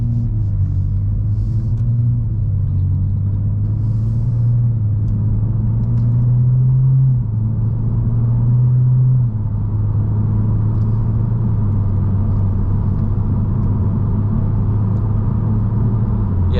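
BMW F30 335i idling steadily after a spark plug change, a loud, even low engine rumble with a slight pitch rise midway, no voices.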